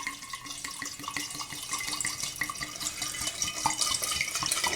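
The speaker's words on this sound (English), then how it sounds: "Let me get this rum opened up here. So I'm going to pour a whole 750 milliliter" A 750 ml bottle of rum glugs steadily as it pours into a gallon mason jar. The liquid splashes close by with a pulsing rhythm and no voice over it.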